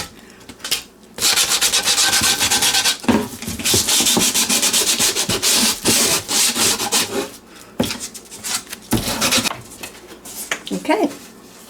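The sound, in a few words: sanding painted wood sign with fine sandpaper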